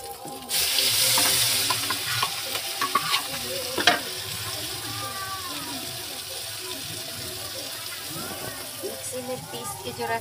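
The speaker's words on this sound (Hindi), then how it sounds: "ये देखिए मसाला तेल गर्म हो गया" Spice masala hits hot oil in a pan on a clay stove while fish curry is cooked, a loud burst of sizzling that settles into steady frying with stirring clatter and a few sharp knocks.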